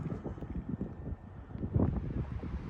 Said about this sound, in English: I'm gonna make this quick because the wind is brutal